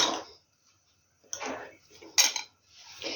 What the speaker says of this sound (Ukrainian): вилочкою гарненько перетерла халву